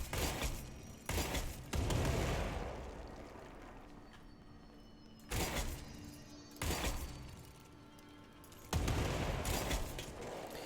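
A grenade launcher in the video game Control fires and detonates in several loud, booming bursts, each followed by a fading rumble, spaced a few seconds apart.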